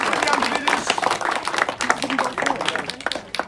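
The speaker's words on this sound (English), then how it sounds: "Round of applause." A crowd claps in a burst of applause after a house sells at a live auction on Golf Road in Oakleigh South, with dense, steady clapping that runs the whole time under a voice.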